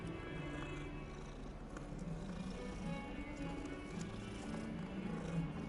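A cat purrs in the video game Hogwarts Legacy, a soft continuous rumbling purr with faint background ambience and no talking.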